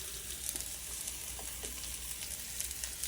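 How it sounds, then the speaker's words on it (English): Onions sweating in a hot pan for a Punjabi chole, giving a steady close sizzle with faint crackles and pops and no voices. "And let the onions sweat a bit"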